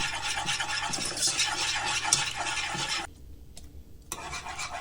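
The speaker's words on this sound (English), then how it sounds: "Then add the milk little by little. Keep stirring to prevent lumps." Milk stirred little by little into a nacho cheese sauce makes a close scraping, swishing churn in a pan that stops abruptly near the end, then briefly resumes.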